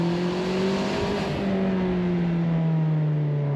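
The turbocharged engine of a Mazda ND Miata revs hard, a loud, sustained droning tone that climbs and settles across the whole stretch, heard close up from inside the car.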